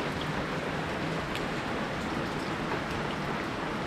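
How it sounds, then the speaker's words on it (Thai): Heavy rain pours steadily in a dense, continuous hiss with no breaks, fairly loud and even throughout, with no talking. "เพราะว่าฝนตกหนัก"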